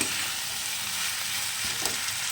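Spices fry in a pan for a shrimp curry with taro, pumpkin and Malabar spinach, giving a close, continuous sizzle with no talk.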